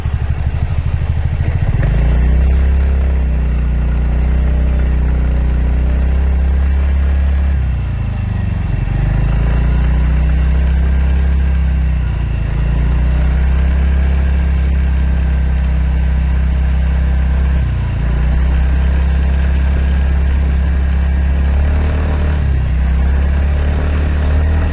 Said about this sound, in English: noise is high while driving in rough and potholes road